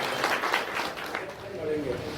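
Crowd applause at an Azad Samaj Party gathering welcoming Chandrashekhar Azad: a steady, dense wash of clapping throughout, mixed with voices from the crowd.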